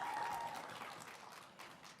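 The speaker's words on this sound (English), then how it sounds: "Let's clap. We can clap for that." A conference audience at the closing ceremony of a 48th annual higher-education conference claps together, a soft, fairly distant patter that tapers off after a couple of seconds.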